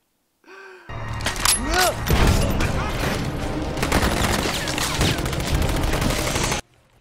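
Automatic rifle gunfire in a film scene, loud sustained bursts of rapid shots with explosive cracks and a brief gasp-like vocal near the start, cutting off abruptly.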